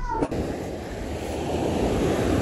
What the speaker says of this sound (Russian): Пришли к морю.